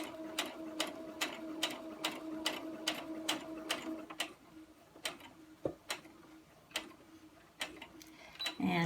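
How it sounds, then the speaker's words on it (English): A domestic sewing machine stitches a fabric mask in a quick run of evenly spaced clacks with a faint motor hum, then slows into scattered single stitches and short pauses near the end. "I just sew up to this pin, which gives me the spot for turning"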